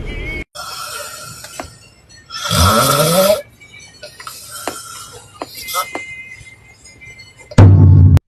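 A man sleeping in a car snores loudly once with a rough, rattling inhale, surrounded by intermittent clicks and background noise, then a sudden loud thump at the end.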